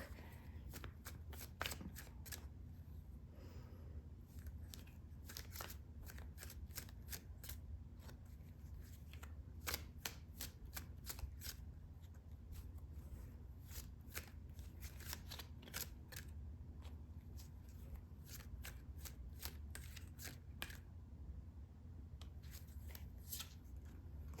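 Tarot cards are shuffled close up in a quiet room, making rapid riffles and sharp flicking snaps in quick irregular bursts over a low steady hum.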